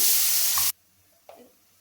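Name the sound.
spice paste added to hot wok, sizzling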